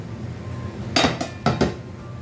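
A ladle clinks and scrapes against a cooking pot of beef sinigang with kangkong, two short bursts of metallic knocking a half second apart, close and clear.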